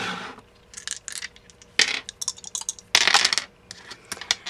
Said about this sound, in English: we're going to roll the dice for 2 colors